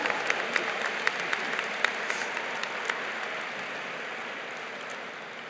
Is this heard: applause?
yes